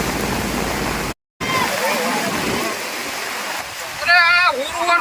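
A rain-swollen forest river rushes in a broad, steady roar of flowing water, briefly cut to silence once, with a person talking over the water toward the end.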